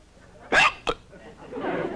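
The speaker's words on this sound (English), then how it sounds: "Tell me, do you know of anything that will cure hiccups?" A man hiccups in an old comedic film scene, one sharp loud hiccup followed by a shorter second catch, close and clear, with faint background murmur after.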